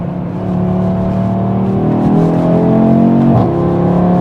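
Honda Civic Type-R FL5 driven hard, its engine revving loudly and steadily from inside the cabin, pitch climbing and shifting as it accelerates, with no talk.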